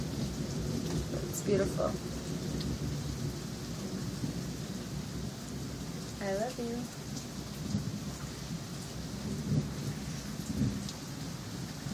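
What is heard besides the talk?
thunderstorm with rain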